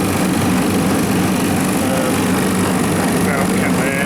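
An Alfa Laval separator runs steadily after being put back into service, a loud continuous machine hum and whine with no breaks across the whole clip.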